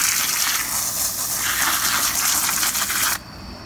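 Water gushes steadily from a garden hose into a post hole, saturating the soil at close range until the flow stops abruptly near the end.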